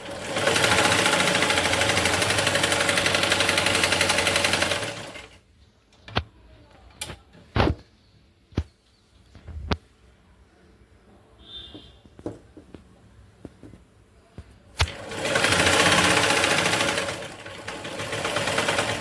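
Electric sewing machine stitching a saree blouse piece: two long bursts of fast, loud whirring stitching at start and end, with scattered clicks and handling knocks in the quiet between.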